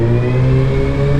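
A 2019 Suzuki Hayabusa motorcycle engine pulling hard under acceleration, a loud, steady, close-up drone with a rising tone over a brief stretch.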